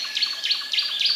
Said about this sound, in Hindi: पंछी चहचहा रहे हैं।